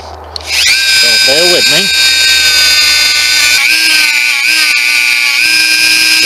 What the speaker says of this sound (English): what I'm going to try and do is just remove some of that using my Dremel tool.